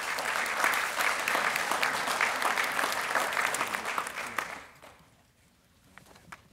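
A banquet crowd applauds coaches at an awards dinner, dense steady clapping that fades out after about four and a half seconds, leaving quiet room tone with a few stray claps.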